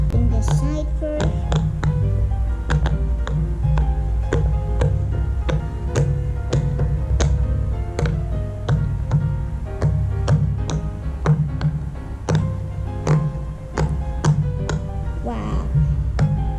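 Bubbles on a jumbo purple pop-it silicone fidget toy are pressed one after another, making a steady run of soft, close popping clicks over a constant background murmur.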